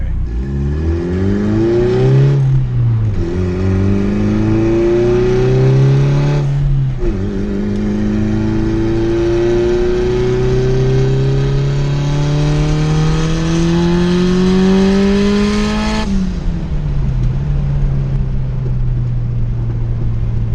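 Built, tuned turbocharged single cam car pulling hard on the street, its loud engine note climbing steadily through the gears with quick dips at each shift, heard up close from inside.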